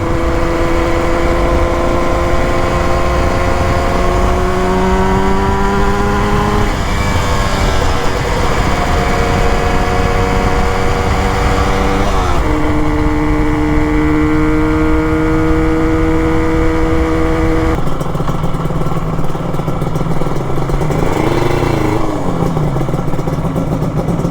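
A Yamaha RD350 cafe racer or XS650 tracker motorcycle engine roars loud and close throughout a ride. Its pitch climbs through the gears, with drops at the shifts and wind noise underneath.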